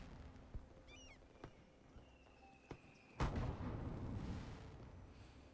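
Faint fireworks at night in the Cities Skylines video game: a few scattered soft pops, then a louder burst followed by a crackling, fizzing tail that fades out.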